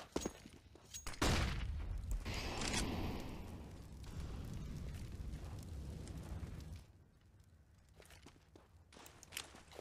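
A grenade explodes on Dust2 in a professional Counter-Strike: Global Offensive match, giving a loud booming burst followed by a long rumbling decay, with footsteps and faint match ambience afterward.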